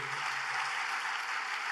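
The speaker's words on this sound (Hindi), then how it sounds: "एक बार जोरदार ताली सेवादारों के लिए आप लोग बजाइए" Audience applauding for the volunteers at a religious discourse gathering in Kampala, Uganda: a steady, dense wash of clapping from a large crowd, sustained evenly without talk.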